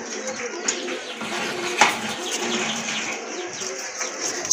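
Rajgolla pigeons in a coffee or dun colour coo softly in the background of a pigeon sale, mixed with murmuring voices and faint clinks nearby.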